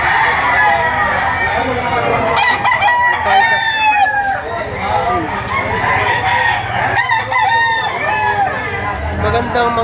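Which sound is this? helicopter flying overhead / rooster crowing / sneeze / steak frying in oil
rooster crowing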